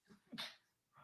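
A single sharp sneeze breaks up a basketball discussion on a Knicks podcast, a short close burst with voices talking just before and after it.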